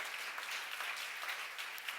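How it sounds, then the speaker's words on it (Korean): A church congregation applauding during a sermon, a steady wash of many hands clapping, faint and distant, unbroken for the whole stretch. "박수로 맞으세요"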